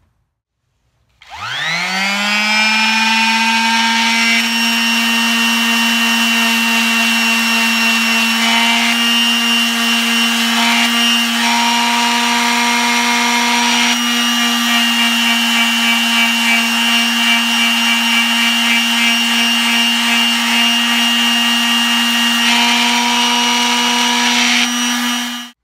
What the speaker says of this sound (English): so let's sand this down